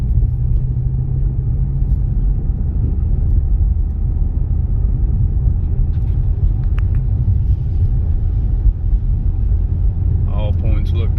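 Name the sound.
2013 Mustang 5.0L engine during test drive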